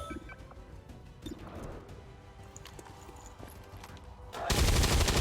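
Weapons fire at a target in an intergalactic war video game, with scattered sharp shots and rattling bursts over busy game ambience, building into a loud, dense blast of noise at the end.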